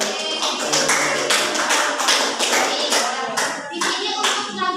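Classroom applause as students clap together on a teacher's cue, a brisk, crisp patter of many hands close by, irregular and lively for several seconds with a few voices mixed in.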